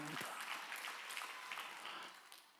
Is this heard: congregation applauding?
yes